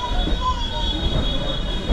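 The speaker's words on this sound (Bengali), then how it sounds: "এই হচ্ছে আমাদের লোকাল ট্রেন, পুরো ফাঁকা" An almost empty local train from Howrah to Rampurhat rolls along with a steady rumble, faint wheel squeal and a sustained high whine, heard from inside the carriage.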